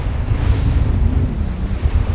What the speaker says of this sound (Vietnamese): sóng biển dâng trào